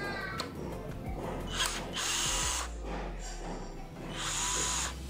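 A Sunc S12 12V cordless drill drives a screw, whirring in short bursts with pauses between, close and fairly quiet, with rattling handling noise.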